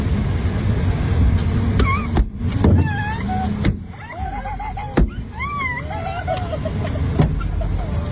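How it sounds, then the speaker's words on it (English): A kid throws rocks at his mom's car windshield, producing several sharp, separate cracks spaced a second or more apart, with raised voices and whining cries in between. "He was literally throwing rocks at his mom's car's windshield while his siblings were in the car"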